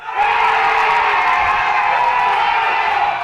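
A large crowd in Rio de Janeiro's Rocinha favela cheers and shouts in celebration of Flamengo's title, a dense, continuous roar of many voices at a distance, sustained without breaks.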